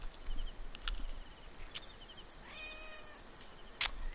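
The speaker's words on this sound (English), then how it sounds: "Oh, there's another cat." A cat meows in the Assassin's Creed Origins game world, set in ancient Egypt. The meow is faint and drawn out, with a sharper click and scattered ambient game sounds around it.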